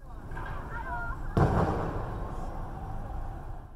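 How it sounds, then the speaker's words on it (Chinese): Police fire tear gas at a night protest against a PX chemical plant outside a Maoming shopping mall, giving a single sharp loud bang over a steady rumbling crowd background. "警方在现场发放催泪弹， 传出砰砰声"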